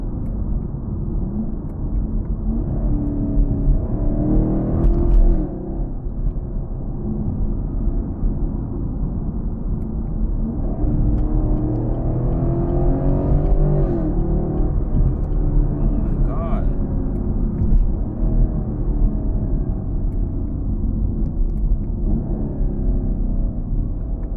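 A Camaro 2SS cruises along with a steady low engine and road rumble heard from inside the cabin, while people talk continuously over it.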